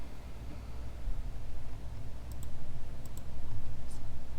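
Computer mouse clicks in a Spanish-language Excel tutorial, a few sharp faint ticks around the middle and near the end over steady low background hiss.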